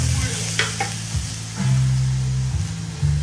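Food with garlic powder being stirred in vegetable oil in a pan: a bright, continuous sizzle with a few scraping strokes, partly covered by loud background music.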